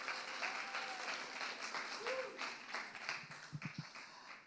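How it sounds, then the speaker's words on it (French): Church congregation applauding together, a steady wash of claps from a large room at moderate distance, with faint voices mixed underneath. "Est-ce qu'on peut vraiment applaudir le Seigneur,"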